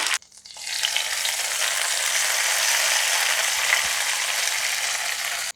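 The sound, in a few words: mustard seed tempering poured into ripe mango curry, sizzling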